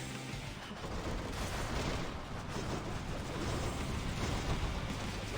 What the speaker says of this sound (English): Wow, look at that explosion.